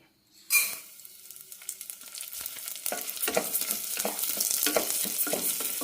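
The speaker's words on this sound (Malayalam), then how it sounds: "ആദ്യം ചെറുപയർ വറുത്തെടുക്കാം അര ടീസ്പൂൺ നെയ്യ് ഒഴിക്കാം ഇനി ഇതിലേക്ക് ചെറുപയർ ഇടാം" Moong dal roasting in a little ghee in a pan, starting with a sharp clatter as the lentils drop in and settling into a steady, close sizzle with frequent crackles and stirring scrapes, no talking.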